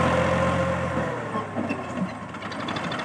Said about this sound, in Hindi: अभी ये जो ट्रैक्टर है इसको करने लगे हैं स्टार्ट टोचन करके।